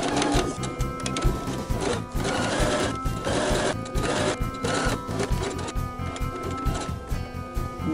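A sewing machine stitches a quarter-inch seam through tote bag fabric, running as a continuous mechanical whir with rapid needle clatter and brief changes in speed.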